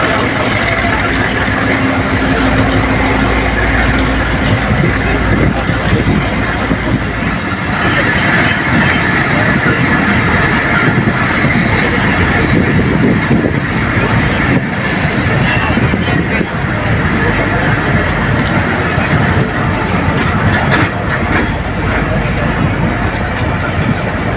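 A train from Hyderabad to Mirpurkhas rumbles steadily along the rails approaching Tando Jam railway station, a continuous loud rolling noise with faint metallic squeals near the middle and a brief faint voice.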